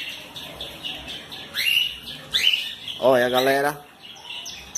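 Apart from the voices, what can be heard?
chicks chirping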